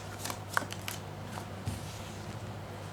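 Tarot cards handled during a reading, a few quick papery flicks and snaps near the start, then a softer shuffle, close and brief over a low steady hum.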